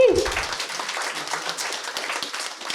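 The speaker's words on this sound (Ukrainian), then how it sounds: "дайте Андрюхі шоу, оплески" Audience applause fills a comedy improv show, steady broadband clapping throughout after a brief low voice at the start, moderately loud and close.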